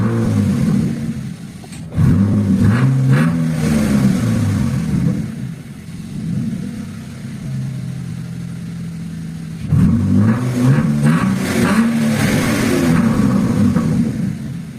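A BMW E36 six-cylinder engine fitted with a FuelTech FT500 sits at idle and is revved twice, each loud rise and fall separated by a steady, stable idle, heard up close.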